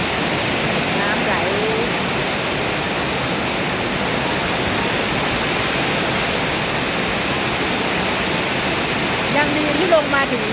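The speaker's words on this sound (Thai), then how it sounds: "น้ำไหล" Floodwater rushes and roars during heavy rain near a hillside home, a steady, loud, broadband wash of flowing water with no break.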